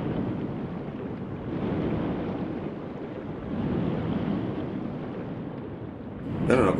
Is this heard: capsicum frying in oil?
no